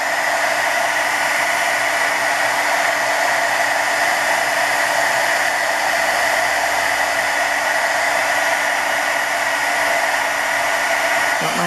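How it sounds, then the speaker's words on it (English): A heat gun blowing hot air for heat embossing on card tags, a loud, steady whooshing roar that holds constant throughout with no talking. "Have my heat gun here."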